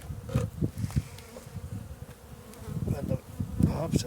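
Honey bees buzz steadily around an open hive during a spring inspection in March, a dense, close insect hum with fluttering bursts throughout and no talking.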